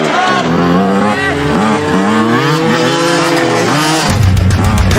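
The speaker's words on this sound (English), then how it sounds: "As Seth approaches the ramp on his Honda CR250, he reaches a takeoff speed of 70 miles per hour" A Honda CR250 dirt bike races at high speed toward a jump ramp, its engine a loud, continuous high-revving whine with rising and falling pitch that holds for several seconds before a sudden shift in tone near the end.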